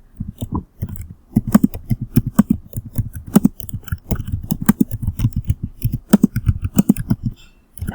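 Rapid clicking of keys on a keyboard, irregular bursts of taps and clacks close to the microphone, continuing steadily with brief pauses and no speech.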